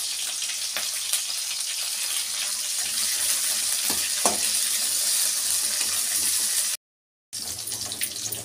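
Onions and green chillies frying in a pan for a potato, moong dal and amaranth leaf curry, giving a steady close hiss of sizzling oil that runs throughout with a brief gap near the end, no voices.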